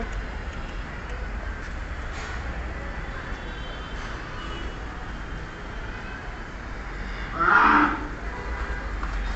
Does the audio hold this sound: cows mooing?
yes